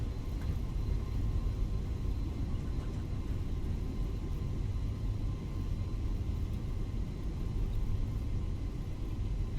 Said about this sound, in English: Get the reversers out just so to ease the braking